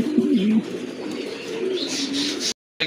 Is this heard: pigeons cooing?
yes